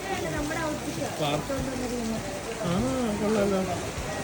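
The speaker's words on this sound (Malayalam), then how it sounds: "ഇത് ഭയങ്കര മഴയായിരുന്നു, ഇപ്പൊ തന്നെ കുറഞ്ഞു." Rain falls steadily in the background while people talk over it.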